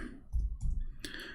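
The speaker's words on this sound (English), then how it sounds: "So if we type the word ahad here, and I will type it in front of you, Abdul." Keys clatter on a computer keyboard in a short burst of clicks and taps, close and moderately loud, with no speech over the typing.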